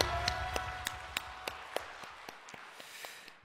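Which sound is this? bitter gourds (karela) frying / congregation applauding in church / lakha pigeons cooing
congregation applauding in church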